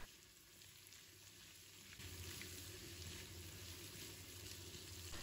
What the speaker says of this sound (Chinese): 把花菜搅拌一下好。